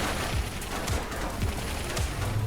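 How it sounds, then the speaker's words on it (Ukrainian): Repeated gunfire bursts from the video game Turbo Overkill, dense and layered, with booming shots recurring about every half second against a steady noisy backdrop. "по нам стріляють"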